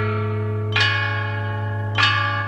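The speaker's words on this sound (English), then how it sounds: "Of all the instruments, chime bells rank the top of the 8 tones." Ancient Chinese chime bells of Marquis Yi, bronze bells struck twice about a second apart, each strike ringing out with a bright attack and a long sustained humming resonance.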